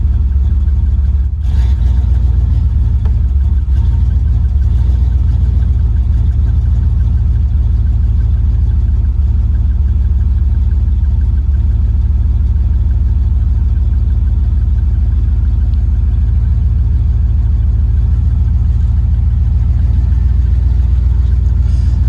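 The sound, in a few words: 1993 K1500 truck engine running and revving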